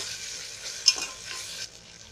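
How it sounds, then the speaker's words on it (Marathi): Ginger-garlic paste fries with onion in hot oil for a raw mango masoor dal, a short close sizzle with one sharp spatula knock near the middle before it quietens, with no speech. "आता त्याच्यामध्ये अद्रक लसूणची पेस्ट टाकते. ती चांगली हलवून अशी भाजून घ्यायची."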